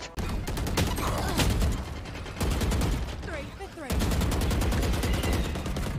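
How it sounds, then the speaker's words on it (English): Rapid shotgun and gunfire blasts in the VALORANT shooter game, loud dense bursts of shots in several clusters with brief pauses, close and dominant throughout. "He has a shotgun in the smoke."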